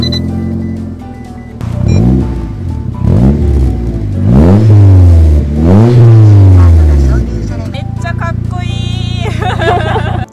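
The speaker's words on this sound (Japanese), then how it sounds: "いや、めっちゃかっこいい音してましたね。" A manual sports car's aftermarket exhaust revs loudly several times, deep rumbling rises and falls up close, with people talking and laughing underneath.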